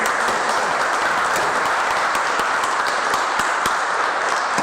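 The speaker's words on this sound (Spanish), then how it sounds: "Un aplauso a Marcelo, el editor." Steady, dense crowd applause at a church service, with many overlapping claps, sustained at an even level throughout with no voices standing out.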